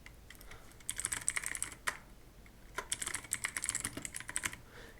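Typing on a computer keyboard in a Windows settings search box; two quick bursts of clicky keystrokes split by a short pause and a single sharp key press, close and fairly quiet.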